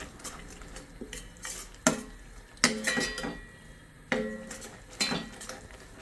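Besan halwa being stirred in a pan, a spoon scraping and clinking against the metal in irregular strokes with soft sizzling between them, close and fairly quiet, with no talking.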